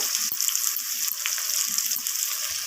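Finely sliced tomato goes into a pan of fried onions for a chicken curry, giving a steady, close hiss of sizzling oil with small crackles and stirring scrapes, and no talking.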